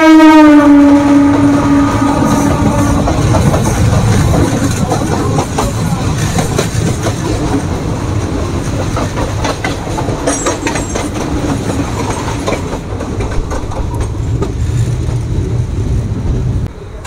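The Howrah–Amta local passenger train runs close by, opening with a loud horn blast that fades within a few seconds into a steady rumble and rhythmic clatter of wheels on rails that continues loudly to the end.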